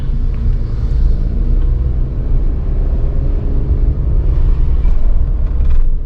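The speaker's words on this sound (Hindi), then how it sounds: "मैं हल्के हल्के चला रहा हूँ गाड़ी को।" A Tata Nexon automatic moves slowly in first gear near 3000 rpm, its cabin filled with a steady low engine and road rumble that holds constant throughout, with no talk.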